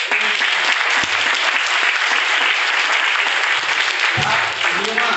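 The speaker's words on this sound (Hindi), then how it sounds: "ये करोड़ वाली तालियां नहीं थी" Loud, dense audience applause fills a business plan seminar hall, steady throughout with a brief voice breaking through near the end.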